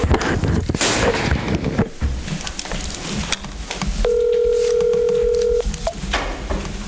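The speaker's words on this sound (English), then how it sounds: "We've got someone phoning in." A phone call is dialed in over a speakerphone at a city council meeting: a few clattering handling noises and scattered clicks, then a steady ringing tone holds for over a second, followed by a short beep.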